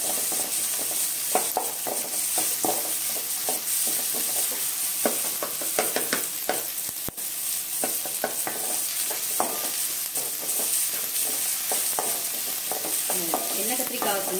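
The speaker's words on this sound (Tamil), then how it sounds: "தக்காளி நல்லா வதங்கட்டுங்க" Tomatoes frying in oil in a pan, cooking down for a South Indian oil-brinjal gravy: a steady, close sizzle with repeated scraping and stirring clicks of a spoon throughout, no voices.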